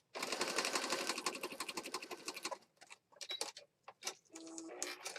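A sewing machine stitches across a paper junk journal page with a yellow floral theme, giving a dense, rapid mechanical chatter for about two and a half seconds, then shorter stop-start bursts of stitching.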